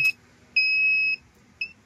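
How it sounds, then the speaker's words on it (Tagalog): Electronic beeping from a pump controller alarm under test: a brief chirp, a half-second steady tone, then another short beep, clear and close over a faint background hum. "Okay, alarm."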